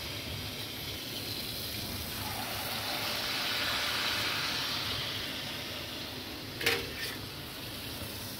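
Dhuska batter poured from a ladle into medium-hot oil sizzles steadily with a broad hiss, swelling slightly mid-way, with a brief metallic clink of a utensil near the end.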